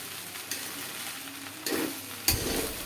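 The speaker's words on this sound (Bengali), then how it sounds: "এখন আমি সবজির সাথে চালটা ভালোভাবে মিশিয়ে নিতেছি।" Rice being stirred together with chopped carrots, vegetables and tomato sauce in a frying pan, with a steady close sizzle and several louder scraping stirs toward the end.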